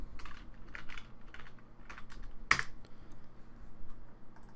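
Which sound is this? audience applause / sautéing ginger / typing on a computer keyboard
typing on a computer keyboard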